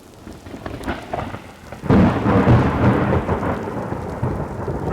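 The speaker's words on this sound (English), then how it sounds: "Now we have got a huge thunderstorm." A heavy thunderstorm in the countryside of northern China: a loud thunder rumble breaks in over steady pouring rain and keeps rolling while rain hisses on surfaces, with no voices.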